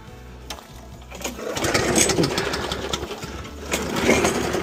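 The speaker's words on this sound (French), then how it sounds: "la tondeuse est d'époque" An old petrol lawn mower with a petrol-soaked air filter runs steadily up close, a rough, loud, continuous engine drone that swells slightly after the first second, with no one speaking.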